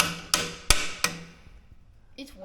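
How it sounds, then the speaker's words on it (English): Three sharp, loud hammer blows in an even rhythm as steering parts are fitted onto a small Cherry Bomb tractor, each strike ringing briefly before a quieter clink at the end. "Are you installing the steering with a hammer?"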